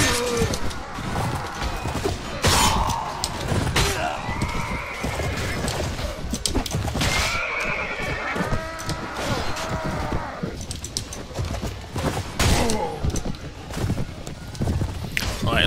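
Horse whinnies and neighs repeatedly in the medieval combat game Mount & Blade Warband, mixed with clip-clopping hooves, battle clatter and someone talking over the action.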